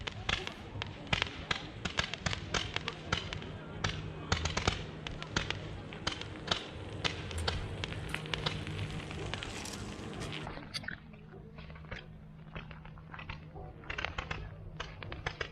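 Fireworks at BusFusion 2019 pop and crackle in a dense run of sharp bursts outdoors at dusk, loud at first and thinning to scattered reports near the end.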